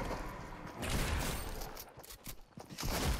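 Rapid bursts of Fortnite gunfire crackle in quick succession, dense and continuous, with a processed, game-like quality and no voices.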